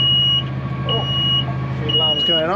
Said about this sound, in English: few alarms going off.